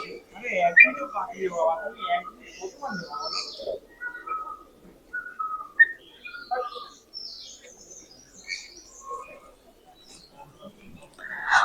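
Birds at a bird park in Pelling, West Sikkim, give scattered bright chirps and whistled calls, some close and some farther off, while people talk throughout.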